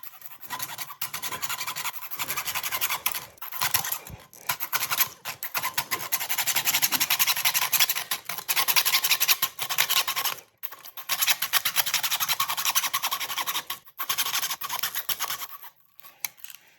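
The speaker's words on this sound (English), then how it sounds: "To cut my PVC pipe down, I'm going to use a simple hacksaw." A hacksaw cuts through PVC pipe with a steady rasping back-and-forth stroke, close and fairly loud, the strokes broken by short pauses.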